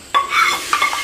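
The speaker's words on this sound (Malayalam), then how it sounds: "അത് ഇതിലേക്ക് അങ്ങ് ചേർത്ത് മിക്സ് ചെയ്യാം." A spoon stirs ghee into a beaten rice mixture in a pan on a switched-off gas stove, giving a few quick scraping, sizzling strokes close up over about a second.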